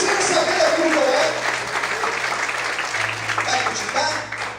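A church congregation applauding during a sermon, a dense patter of clapping throughout with voices and a tone underneath.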